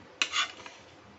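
A spoon clinks once against a pot while scooping up syrup, a brief metallic scrape and tap, close and fairly quiet, with nothing else around it.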